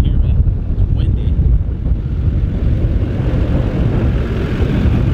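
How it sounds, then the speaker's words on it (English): Steady wind buffeting an outdoor microphone, a loud low rumble that runs the whole time on a warm, windy day beside a truck, with no clear speech over it. "Hopefully you guys can freaking hear me. It's windy."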